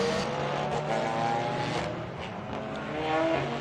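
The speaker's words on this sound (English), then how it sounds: "So we have got cars rolling." Race cars on the Monza circuit during the Hankook 12 Hours restart, engines droning and rising in pitch as cars roll past at moderate distance, a continuous layered motor roar with shifting tones.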